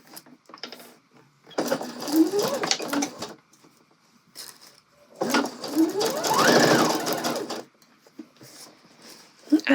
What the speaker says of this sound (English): I'm going to run this stitch just underneath the edge of the gathers at that 5/8 of an inch